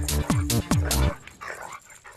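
A dog barks three times in quick succession, loud and close, followed by fainter whimpering noises as the barking trails off.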